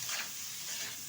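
Rohu fish curry with cauliflower and potato, just salted, is stirred in a hot pan, giving a steady, close sizzling hiss that holds evenly without voices.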